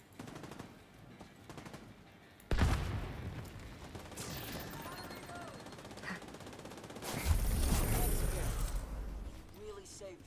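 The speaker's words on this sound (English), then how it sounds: "Firing at something." Gunfire in The Division, with bursts of automatic weapon fire that start abruptly, continue steadily and surge again later, loud and close, with occasional voices over the shooting.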